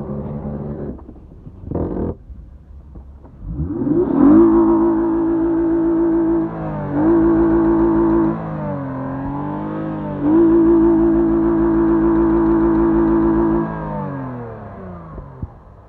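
A Mazda car engine, its motor mounts worn out, revs hard and holds high for long stretches, dipping and climbing again between pulls, loud and close after a few brief opening bursts.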